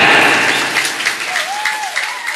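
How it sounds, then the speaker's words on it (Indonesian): Loud burst of audience applause during a humorous religious lecture in Bogor, West Java, fading slightly then continuing as scattered clapping with a brief whistle-like tone. "tepuk tangan untuk orang Ciandam"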